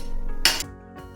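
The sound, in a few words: lid being placed on a kadhai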